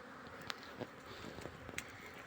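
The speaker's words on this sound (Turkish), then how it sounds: "bugün hava güzel olduğu için arılar dışarıya çıkıyor" Honeybees fly out of the hive on a warm winter day, a faint continuous buzzing hum with a few brief closer passes of individual bees.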